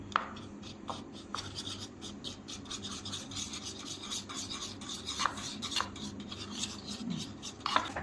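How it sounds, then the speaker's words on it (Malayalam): Maida dosa batter being stirred and mixed in a bowl, giving a steady close scraping and rubbing texture with a few sharper clinks of the utensil against the bowl. "ഇനി നമുക്കൊരു പാത്രത്തിലേക്ക് ഒഴിച്ചു വെക്കാം. നന്നായിട്ട് കലക്കിയെടുക്കാം."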